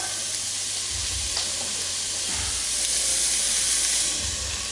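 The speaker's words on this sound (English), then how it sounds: "hear my onions starting to sizzle" Onions sizzle steadily while frying in a pan, a continuous bright hiss with a few soft low thumps as they are tossed, no talking over it.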